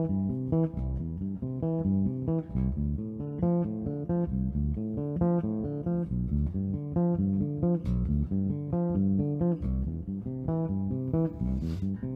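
Bach's Prelude No. 1 from the Well-Tempered Clavier, played on bass as a continuous stream of evenly spaced broken-chord notes, close and steady with no voices.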